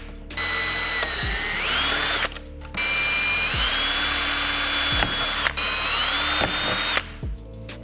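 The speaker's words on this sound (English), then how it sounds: "So I'm just gonna get this drill bit and drill these out." A power drill drills out screws in several bursts, its motor pitch rising as it bites and dropping at each stop, with short pauses between runs.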